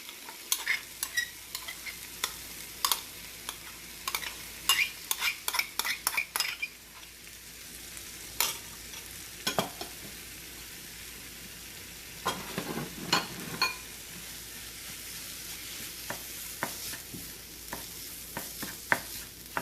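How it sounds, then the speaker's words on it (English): Mashed beet, banana and potato are stirred together in a bowl, giving quiet, soft squelching scrapes with irregular bursts of sharp spoon clicks against the dish; no one speaks. "Mix well."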